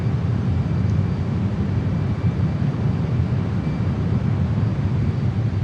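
A JAS-39 Gripen jet's engine roars steadily as power is added, a loud, continuous low rumble with no pauses.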